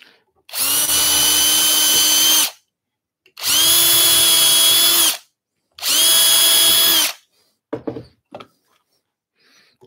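Three long bursts from a power drill boring holes in wood for an Adirondack chair, each whine lasting about two seconds with pauses between, followed by a few short knocks and thumps.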